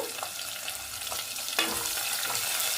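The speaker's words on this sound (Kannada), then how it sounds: "ಸ್ವಲ್ಪ ಈರುಳ್ಳಿ ಚೆನ್ನಾಗಿ ಫ್ರೈ ಮಾಡ್ಕೊಳ್ಳೋಣ" Onions sizzle and crackle steadily as they fry in a pan for dal, a close, continuous hiss with occasional sharper pops and no voices.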